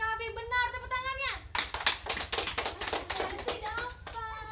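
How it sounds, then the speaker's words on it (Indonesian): Students in a classroom break into a burst of rapid applause lasting several seconds, close and lively, with a teacher's voice before it and children's voices returning at the end. "Benar, tepuk tangannya."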